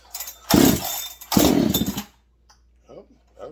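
A Husqvarna 385XP chainsaw with a ported engine fires in two loud, close bursts of about a second each on fast idle with no choke, then cuts out into near silence with brief faint speech.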